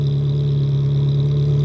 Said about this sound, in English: So here's the Capristo Stage 3 exhaust installed back in the 360 again.